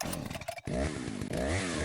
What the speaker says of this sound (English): Do you charge a chainsaw, or is it...